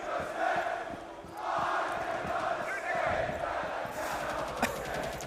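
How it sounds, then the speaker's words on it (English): Arena crowd chanting at an R6 esports grand final in Manchester, a broad sustained roar of many voices swelling and dipping in waves, with commentary talk running over it. "The chants are in full force."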